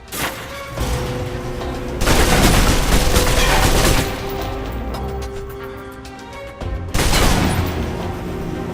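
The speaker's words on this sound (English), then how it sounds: "If you're trapped in close quarters with multiple opponents, the SMGs can help clear the room quickly." Submachine gun fire in the video game Alpha Protocol comes as loud, dense bursts of rapid shots in close quarters. Bursts are spaced by brief lulls with echoing tails and no speech.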